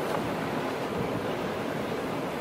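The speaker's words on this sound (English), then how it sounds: "Seems like every day here is a wind tunnel." Strong, steady wind roars across the Peruvian coast with surf churning beneath it, a continuous loud broadband rush buffeting the microphone for the whole stretch, no voices.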